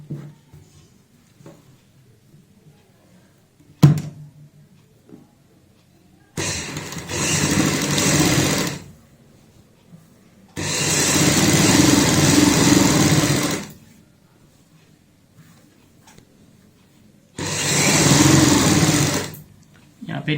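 A sewing machine stitches the collar of a coat-collar kurti in three separate bursts of fast, whirring mechanical rattle, each lasting a few seconds with near-silent pauses between.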